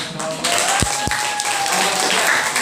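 A classroom of students in a fiqh lesson at an Islamic school claps together, loud dense applause that runs steadily, with a couple of sharp thumps near the start.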